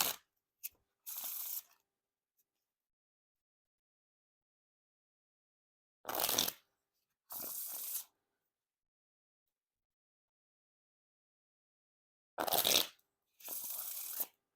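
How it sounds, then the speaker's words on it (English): White Gold Knights playing cards riffle-shuffled up close: short crisp fluttering bursts in pairs, separated by long silent pauses. "Now time for the riffle shuffle or bridge shuffle."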